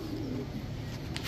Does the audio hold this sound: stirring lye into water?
no